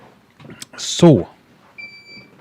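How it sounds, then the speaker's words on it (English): A single electronic beep from a CCTV system rebooting rings out briefly in the background, a steady high tone following a burst of speech nearby. "that's my CCTV rebooting, that big beep."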